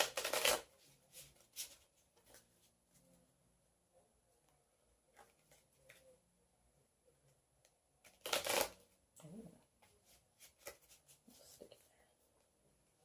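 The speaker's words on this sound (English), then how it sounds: "a few shuffles." Soft riffling and shuffling of tarot cards in a few separate bursts, with quiet rustling and pauses between them.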